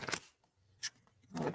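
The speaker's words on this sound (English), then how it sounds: "Okay, we got our big shuffle here." A deck of cards shuffled by hand in a quiet room, with a few brief riffling bursts separated by short pauses, close and fairly soft.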